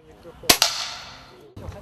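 Pellet air gun fired at a student shooting event, two sharp close cracks in quick succession followed by a fading ring, then a muffled knock.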